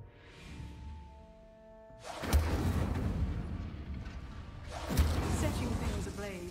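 Incendio fire spell from Hogwarts Legacy, cast twice as sudden whooshing bursts of flame with a crackling roar that carries on for several seconds after each blast, following a quieter hum.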